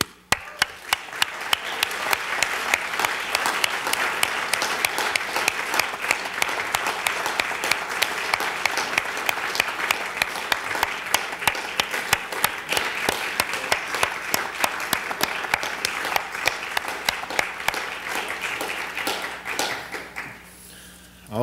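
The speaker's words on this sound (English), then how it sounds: "Please join me in it with a round of applause as Li Wei Wei comes up to the stage" Sustained audience applause at the CREST Awards 2006 ceremony as a presenter comes to the stage, steady dense clapping with sharp claps standing out, lasting about twenty seconds before it fades.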